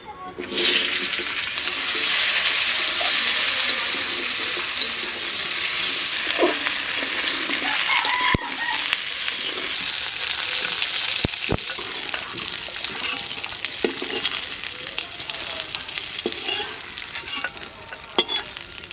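Eggplant frying in oil in a pan fills the scene with a steady, dense sizzle, punctuated by a few sharp clicks of stirring or utensil contact, close and loud with no talking.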